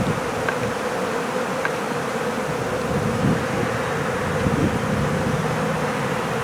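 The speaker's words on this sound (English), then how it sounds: "I can tell by it now that the bees are starting to congregate a little heavier" A honey bee swarm moving into a hive in March, a dense continuous buzzing drone of many bees heard close and steady, with occasional louder passes of individual bees near the microphone.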